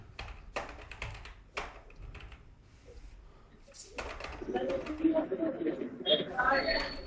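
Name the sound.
typing a name on a computer keyboard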